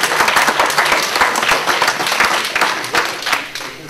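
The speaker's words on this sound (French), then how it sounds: "Merci d'être le seul à applaudir" A lone person applauding during a political speech, with steady, fairly loud claps running unbroken for about four seconds before easing slightly at the end.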